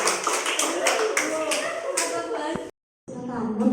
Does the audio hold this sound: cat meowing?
no